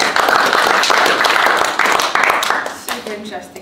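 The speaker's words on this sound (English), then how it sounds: "A round of applause for Robbie for calling" Audience at a golf sustainability roadshow applauds for Robbie, a dense, steady patter of many hands clapping close and fairly loud, thinning out toward the end.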